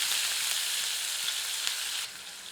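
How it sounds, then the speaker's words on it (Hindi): Ground onion paste fries in a pan over medium heat with whole spices such as large cardamom and cloves. A steady, close sizzle crackles without a break and eases slightly near the end. "प्याज को तब तक भूनते हैं जब तक कि प्याज सुनहरी नहीं हो जाती"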